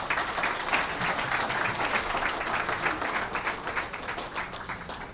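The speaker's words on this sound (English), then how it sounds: "let's have a round of applause for our new members" An audience at an awards evening applauds new members. Steady, full round of clapping from a sizable crowd fills the room, even and sustained, with no talking over it.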